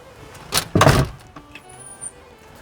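A back door at a workplace bangs open and shuts with a couple of quick thuds, followed by quiet background hum and a faint click.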